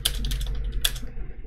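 Quick typing on a computer keyboard, a short burst of clicking keystrokes followed by a final pair of taps, close and clear over a low background hum.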